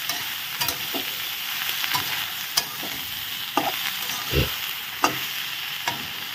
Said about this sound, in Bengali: এখন হলুদ, লবণ দিয়ে ভালো করে নেড়ে চেড়ে নেওয়া হলো